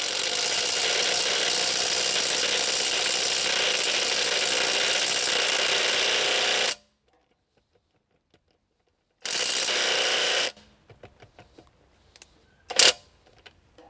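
A Villager VLP 5320 cordless impact driver with a 17 mm socket trying to loosen a car wheel nut, firing in a loud continuous hammering burst of nearly seven seconds, then silence, a shorter burst, and a few faint clicks and knocks.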